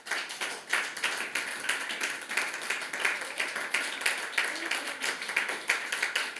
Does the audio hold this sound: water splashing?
no